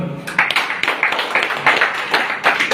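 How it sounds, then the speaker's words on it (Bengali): An audience claps for a guest speaker at a gathering in Klang, Malaysia, the applause coming in loose, uneven bursts of hand claps that rise and dip over a few seconds. "তার জন্য একটা করতালি"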